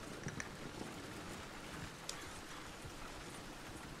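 Horse hooves clip-clop on a ranch road in the video game Red Dead Redemption 2, a faint, steady plodding rhythm of separate hoof strikes over low ambient background.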